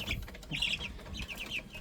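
Hubbard chickens cluck in short, repeated bursts at close range, the calls overlapping with a low background of farmyard noise and no talk.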